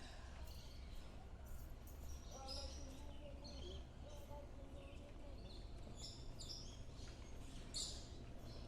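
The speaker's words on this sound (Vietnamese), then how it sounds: "Nghe tiếng chim hót tùm lum la trên đây nè." Birds sing and chirp all around at San Diego Zoo Safari Park, many short high calls overlapping against a steady outdoor background hum, faint and somewhat distant.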